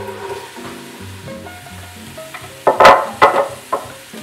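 Vegetables hit a hot pan of sweating spices for pasta fazool, bursting into loud sizzling and frying with a few sharp stirring clatters, over a low background hum.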